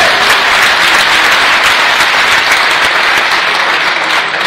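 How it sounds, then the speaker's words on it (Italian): An audience at an evening event honoring former football players gives loud, continuous applause, a dense wash of clapping sustained without a break. "tante indimenticate vecchie glorie che salutiamo con un grande applauso"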